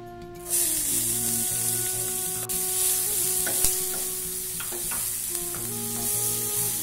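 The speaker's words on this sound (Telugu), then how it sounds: "మనం ఇందులో ఆనియన్ని బ్రౌన్ చేస్తున్నాం" Onions brown in hot oil for a home-style paneer curry, a loud steady sizzle and hiss with occasional stirring clicks, while a continuous background hum of kitchen appliances runs underneath.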